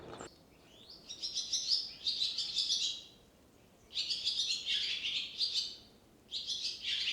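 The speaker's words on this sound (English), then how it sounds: "I think it's a barn swallow." A barn swallow chirps in three bursts of rapid, high twittering, each lasting a second or two with short pauses between, clear and fairly close over a quiet outdoor background.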